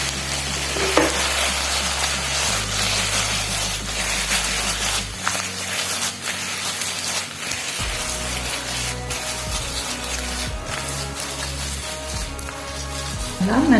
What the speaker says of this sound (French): on va essayer de caraméliser nos oignons en les faisant bouger et tourner et retourner